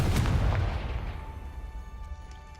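A Confringo fire-blast spell cast in the Hogwarts Legacy video game, heard as one loud booming burst at the start that fades into a low rumbling tail with a faint ringing tone.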